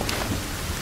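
Heavy rain pours in the survival game The Forest, a loud, dense, unbroken roar of falling water with a low rumble beneath, filling the whole moment without any voices.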